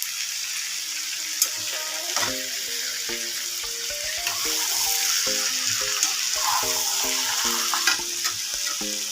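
Chicken pieces fry in a pan with a soft continuous sizzle, partly covered by a melodic tune playing over it; no one speaks.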